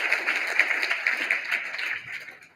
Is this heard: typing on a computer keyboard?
no